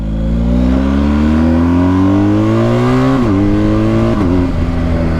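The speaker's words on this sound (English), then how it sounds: "I wouldn't expect to say a Boxer makes a good noise, but it really does" BMW R1250 GS boxer motorcycle engine revving loudly and close, rising steadily in pitch with two quick throttle blips near the end, no voices.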